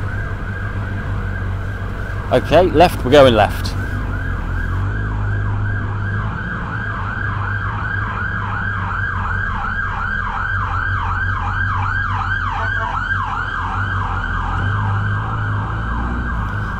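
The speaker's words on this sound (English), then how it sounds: "you can probably hear there's an ambulance coming up behind, so we've got to get out of his way" An ambulance siren wails in a steady repeating sweep, approaching from behind a moving car, over continuous road and engine noise, with a brief voice speaking early on.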